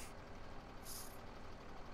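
Truck engine idling with a brief hiss of air brake release in a farming simulator, a steady low rumble throughout and a short bright burst of air midway, no talking.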